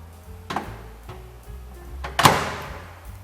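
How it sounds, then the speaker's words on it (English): A microwave oven door swings shut with a soft thump followed by a sharper latching clack, close by amid a few small handling knocks, with no one speaking. "So let's close the door"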